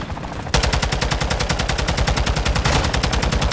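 Rapid automatic gunfire aimed at an aircraft in Call of Duty: Modern Warfare II, a loud sustained burst of evenly spaced shots that begins after a brief moment and runs without pause.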